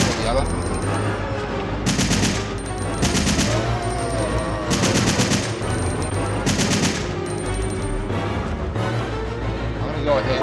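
Rapid bursts of pistol gunfire in the Resident Evil 3 video game, several clusters of quick shots repeating over a steady game soundtrack, with talk over parts of it.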